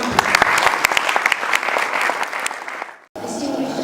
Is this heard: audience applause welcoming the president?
yes